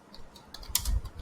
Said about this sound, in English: you just need to type this and hit enter